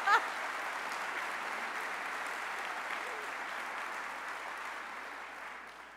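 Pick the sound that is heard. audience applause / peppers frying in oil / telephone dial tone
audience applause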